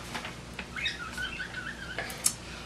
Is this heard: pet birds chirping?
yes